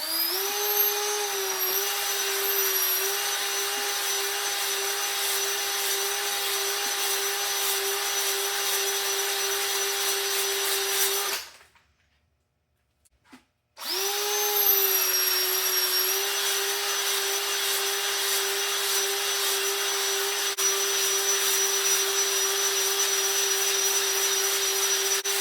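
A power drill hones the cylinders of a Chevrolet 350 engine with a steady high whine, stopping for about two seconds midway before spinning back up and running on evenly.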